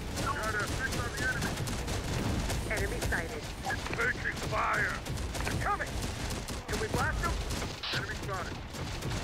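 Rapid gunfire and explosions from the Terminator Dark Fate Defiance video game, dense overlapping bursts of shots continuing without pause, with soldiers' voices calling out over the battle.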